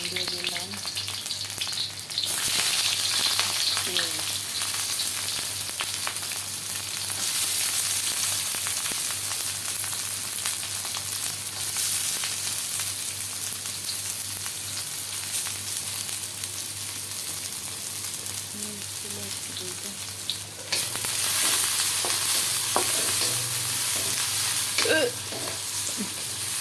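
Garlic frying in hot oil in a home kitchen, a steady loud sizzle with crackling that carries on unbroken for nearly half a minute, with brief stirring scrapes and no talk.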